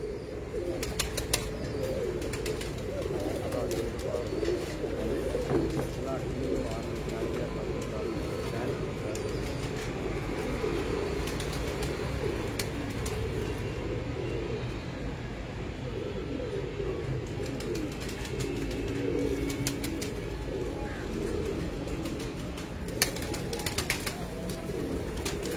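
Breeder pigeons coo and flutter at a loft, low murmuring coos running steadily beneath a constant outdoor hum, with scattered wingbeat clatters and faint voices in the background.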